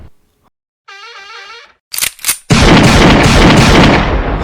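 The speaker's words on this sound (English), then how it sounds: "how am I shooting sniper rifle this fast?" Sniper rifle fire in a Roblox game: a brief tonal in-game sound, then two sharp close cracks in quick succession, followed by a loud sustained roaring burst that fills the rest of the moment.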